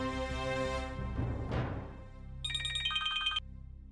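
Phone ringing tone on speakerphone, heard after a ringing sound fades out: a bright electronic ringback pattern of repeated tones lasting about a second, set against an indoor TV-drama background.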